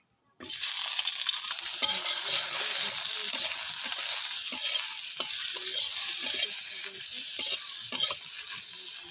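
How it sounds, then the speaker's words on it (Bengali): Eggplant frying in hot oil in a pan gives a steady, close sizzle that begins suddenly and carries on throughout, with intermittent stirring scrapes and small spatters on top. "এবার ওই তেলেই আমি বেগুনটাও ভেজে নেব।"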